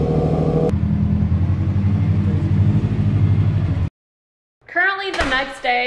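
A car engine turns over and settles into a loud, steady mid-pitched running note for a few seconds, then cuts off abruptly; after a short silence a voice is heard.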